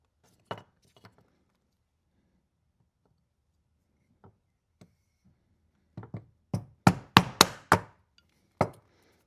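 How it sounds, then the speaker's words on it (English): Hand chisel being struck to cut a piece out of wood for a cross: a few scattered light taps, then a rapid cluster of sharp, loud knocks close by with short decays. "And then you just chisel that piece out."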